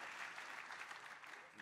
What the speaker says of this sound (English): if you want to clap on that, I think we got time for clapping